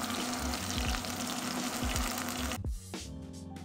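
A bone-in rib chop steak fries in an oiled pan with a loud, dense sizzle and a few thumps, then the hiss drops sharply as it is flipped onto a drier spot and sputters on.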